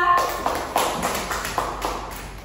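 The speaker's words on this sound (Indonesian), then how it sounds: "Tepuk tangan buat semua." A university economics class claps for everyone, a short burst of scattered, sparse hand claps with a few distinct sharp hits in a room.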